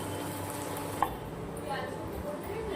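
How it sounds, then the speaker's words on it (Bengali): Chicken being sautéed in a pan for a home-cooked meal, giving a low steady sizzle with stirring scrapes and a single sharp utensil tap near the start, over faint background noise. "এদিকে চিকেনটা কষে নেব"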